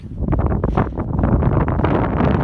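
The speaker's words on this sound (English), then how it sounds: "The wind, as you can see, is still blowing pretty hard" Strong winter wind in the Eastern Sierra buffets the microphone with a steady, loud, broadband roar and gusty rumble for a couple of seconds, with no talking.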